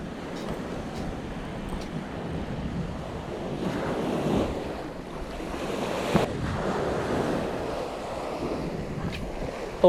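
Strong waves break on a shoreline during squid fishing from the coast, a continuous rushing surf with buffeting wind gusts rolling through, and no voices.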